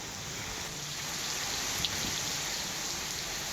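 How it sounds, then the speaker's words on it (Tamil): Heavy rain pours down in Kallakurichi as a steady, dense broadband hiss that holds evenly throughout, with no voices present. "கள்ளக்குறிச்சியில் தற்போது கனமழை பெய்து வருகிறது"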